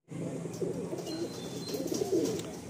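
Madrasi pigeons in a pen giving soft, low cooing calls, a few murmured coos running together over a quiet background, fairly close but not loud.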